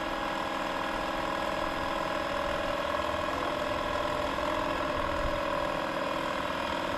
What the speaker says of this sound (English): I just hit start. And it's going to fill up this basketball